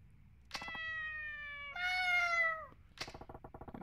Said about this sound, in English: Meow like a kitten.